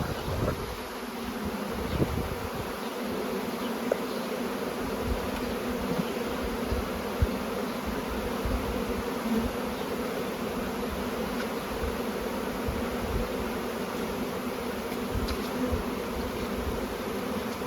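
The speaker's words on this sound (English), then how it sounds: "these probably about 6 pounds of bees" A dense, steady drone of bees buzzing close by, roughly six pounds of honeybees gathered for a queenless starter colony, a continuous mass hum with no pauses throughout.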